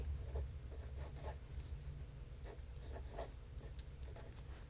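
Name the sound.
hand lettering writing on paper with a pen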